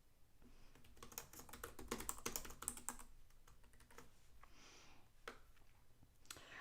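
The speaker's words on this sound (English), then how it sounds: "Sorry if you hear me typing." Fast, irregular key clicks from typing on a computer keyboard, close and fairly steady, with a denser burst early on and sparser taps toward the end; no talking.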